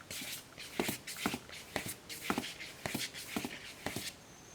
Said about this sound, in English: You hear the clicking sound, right? That is caused by me doing this.